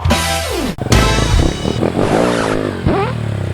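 A motorcycle revs hard during a wheelie attempt, its engine pitch sweeping up and down in repeated bursts, loud and close with no speech.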